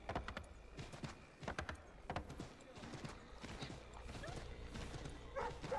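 Horse hooves clip-clopping in Assassin's Creed III, a quick rhythmic run of steps in the game world, with someone talking over the sounds and the hoofbeats standing out in bursts.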